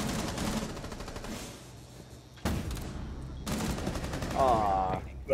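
Submachine gun fire in a first-person shooter game, bursts of rapid shots loud and close among game noise, with a player talking over parts of it.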